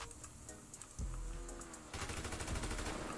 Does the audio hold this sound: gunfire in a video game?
yes